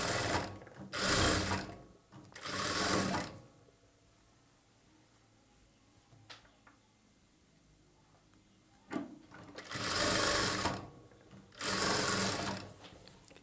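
A sewing machine stitches a blouse in short close bursts: two runs at the start and two more near the end, with quiet handling noises between them.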